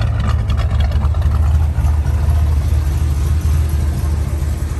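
A 1972 Chevrolet El Camino with a 350 V8, Turbo Hydramatic 350 automatic and 3.73-geared 10-bolt rear end, cruising: a loud, steady low engine rumble with road noise, continuous and close.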